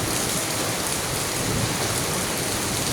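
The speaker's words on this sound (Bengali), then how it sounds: "তবে বৃষ্টির সাথে শিলা আছে" A hailstorm mixed with rain pours down in a dense, unbroken roar of drops striking surfaces, loud and steady throughout with no voices.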